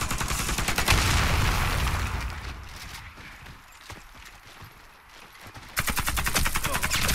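Rapid bursts of automatic gunfire from the online shooter game Warface, loud at the start, dropping to quieter shots mid-way, then surging back into dense firing near the end.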